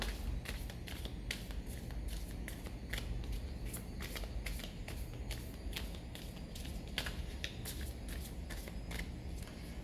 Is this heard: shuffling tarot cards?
yes